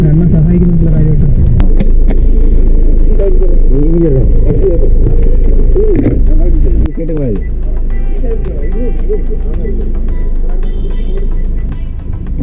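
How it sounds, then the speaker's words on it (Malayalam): A car idles and creeps into a parking spot, its low engine rumble running under close, continuous conversation. "ഞങ്ങളാണ് ഇവിടെ വണ്ടി പാർക്ക് ചെയ്യുകയാണ്"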